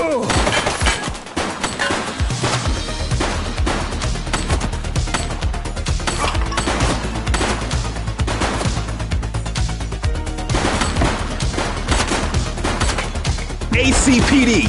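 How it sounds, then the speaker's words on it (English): Gunfire from The Precinct, a police video game, rattles in dense bursts across the whole span, rapid loud shots and crashes, with excited voices talking over the action. "He's shooting!"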